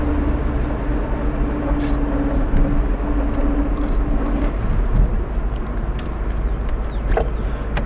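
A 1978 Datsun 280Z with transmission trouble drives past, its engine a steady low rumble throughout, with a short tire spin in the middle and no talk.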